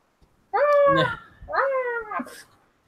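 A cat gives two drawn-out meows in succession, close and clear, each rising and then sliding down, with silence before and after.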